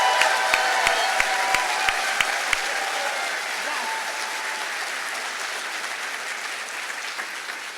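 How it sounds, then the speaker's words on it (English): A large crowd gives sustained applause for graduates at a Class of 2024 magnet school graduation ceremony. Steady clapping fills the hall, a few sharp close claps stand out early, and voices murmur underneath. "Let's give a huge round of applause to these outstanding individuals for their incredible accomplishments."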